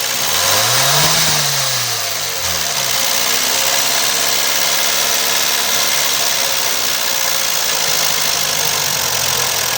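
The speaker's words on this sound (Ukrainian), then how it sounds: "Все-таки я вирішив додати, як торохтять клапана." A Ford Escort MK engine with noisy, rattling valves and a failing fuel injector revs up briefly, then settles into a loud, steady idle with a continuous mechanical clatter close by.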